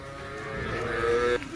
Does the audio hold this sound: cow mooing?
yes